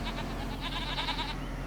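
Goats in Farming Simulator 25 bleat in a steady, overlapping chorus over a constant farm-ambience hum, several calls blending together close by with no talking.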